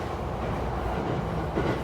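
Japanese local train running on the Joetsu Line near Iwappara ski area, heard from inside the carriage as a loud, steady low rumble of wheels and motor with no voices.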